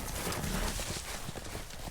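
Hooves clip-clop rhythmically from a horse in a Game of Thrones video game, with a brief whinny mixed in, loud and close over a busy in-game background.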